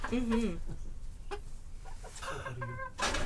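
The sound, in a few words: chickens clucking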